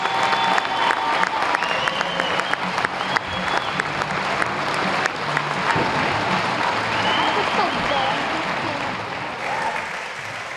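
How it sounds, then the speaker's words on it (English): A basketball crowd in a high school gym applauds West Holmes senior girls on senior night, with steady, loud, dense clapping and some cheering that continues for about ten seconds. "Let's give these ladies and their parents one more round of applause."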